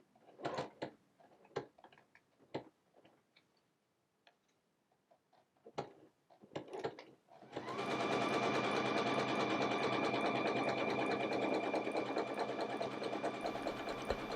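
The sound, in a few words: sewing machine stitching an appliqué monogram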